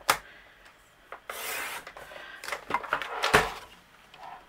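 A paper trimmer slices along the edge of a piece of chipboard, giving short scraping, rasping strokes and light clicks, quiet and close with brief pauses between them.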